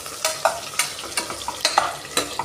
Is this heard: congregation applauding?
no